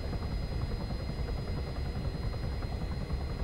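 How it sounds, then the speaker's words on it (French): A helicopter in a gas station heist video game, a dense, loud, rumbling rotor roar with rapid pulsing chop, steady throughout and without talk. "J'entends un hélicoptère, j'entends juste un hélicoptère."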